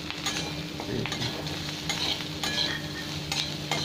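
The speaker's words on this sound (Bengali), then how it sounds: "এবার এই নাড়তে নাড়তে ঠান্ডা হয়ে যাবে" Fried onions stirred in a kadai for an Afghani egg curry masala, a continuous close sizzle with rhythmic scraping strokes of the spatula against the pan and occasional light taps, no voices.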